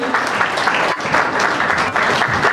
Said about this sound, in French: accueillir l'honorable princesse Adèle Kanida Magina, sous l'applaudissement s'il vous plaît